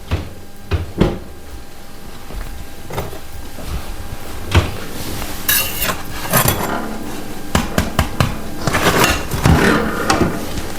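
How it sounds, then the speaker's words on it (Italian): A baked wholemeal bread loaf is turned over and knocked on its bottom, giving a series of short, hollow, woody knocks in irregular bursts against a steady background hum. "Il pane è cotto quando girandolo suona come se bussasse a una porta."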